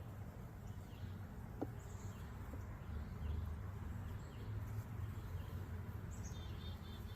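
Honey bees at an opened, long-queenless hive give off a steady, close buzzing drone, with faint birdsong in the background.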